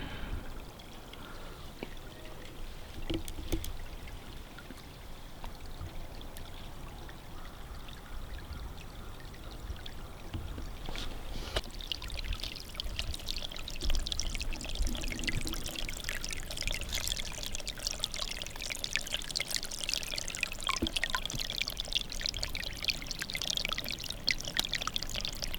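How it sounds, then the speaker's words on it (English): A babbling brook at a tiny woodland cabin, flowing into a pond, pours and trickles steadily and continuously, with the water growing fuller and brighter partway through and no talking. "The babbling brook is flowing nicely."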